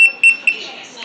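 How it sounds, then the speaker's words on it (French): Small Bluetooth key finder tag sounding its alarm: short, sharp high-pitched beeps in three quick bursts, close and fairly loud, with a faint ringing tail between them. "ça sonne d'une manière intermittente suffisante pour l'entendre dans un rayon de 10 mètres."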